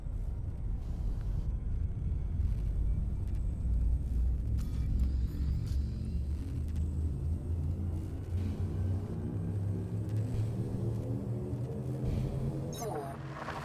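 A spaceship's frameshift drive charging in space flight game: a deep, loud rumble swelling with rising tonal layers that climb steadily in pitch, building toward release, with a voice speaking over it.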